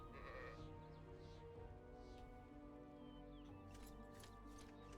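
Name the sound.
sheep bleating in video game ArcaniA: Fall of Setariff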